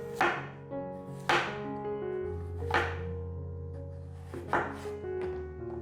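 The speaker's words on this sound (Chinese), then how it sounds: "把白萝卜排整齐，切丝" A knife chops white radish into shreds on a board, a handful of separate crisp strikes spaced a second or so apart over steady background music.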